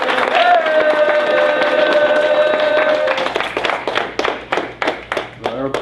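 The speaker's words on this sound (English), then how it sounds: "Big clap for Aarae." A purple belt promotion at a Team Lloyd Irvin martial arts gym starts with talking and a held tone, then gives way to sharp, close hand claps that quickly grow into dense applause.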